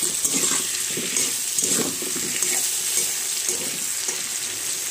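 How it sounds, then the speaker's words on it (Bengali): Potato, pumpkin and eggplant pieces fry lightly with salt and turmeric, giving a soft steady sizzle with bubbling and occasional stirring bursts, close by and without speech. "পরিমাণ মতো নুন হলুদ দিয়ে আমি আলু কুমড়ো আর বেগুনটা খুব হালকা করে ভেজে নিচ্ছি।"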